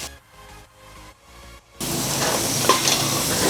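Tomato sautéing in a pan for rice porridge, a loud, steady sizzle that starts abruptly partway through after a quieter stretch of faint stirring and clinks, continuing close and dense to the end.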